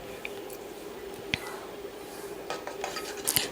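A spoon stirs mint biryani masala in a cooking pot, giving faint, soft scrapes and a few sharper metallic clinks against the pot, quiet and close with no talking.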